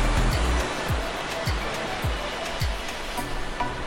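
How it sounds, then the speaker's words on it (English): Ocean waves surge and crash inside a sea cave, loud and close, with repeated deep booming impacts roughly every half second over a constant roar of churning whitewash. "The sound of those waves must be really hard to hear me sometimes. Those waves just so loud."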